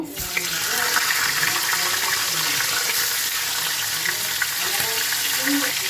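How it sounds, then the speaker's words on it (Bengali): A catla fish head fries in hot mustard oil in a kadai, giving a steady, close, crackling sizzle that holds loud and even throughout with faint clatter beneath. "আমি কাতলা মাছের মাথাটাকে ভেজে নেবো"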